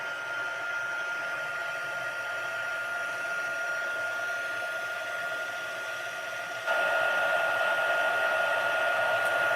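A heat tool blows hot air over embossing powder in a papercraft session, a steady whooshing hiss with fan hum that grows louder and closer partway through. No one speaks.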